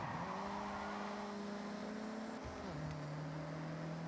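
Car engines drone in the Forza Horizon 6 racing game, a steady humming tone that holds, dips briefly as the car shifts gear, then settles at a lower pitch, continuous and moderately loud with no talking.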